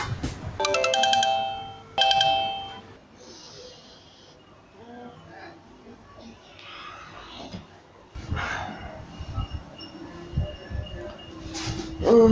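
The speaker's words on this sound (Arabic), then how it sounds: "شو التليفون ده؟" A mobile phone ringtone chimes in two bright bursts near the start in an Egyptian home setting, then drops away to quieter shuffling and faint background voices.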